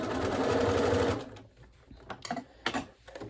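A sewing machine stitches a fabric face mask in a brief close, rapid whirring run that stops after about a second, followed by a few scattered clicks and light handling sounds.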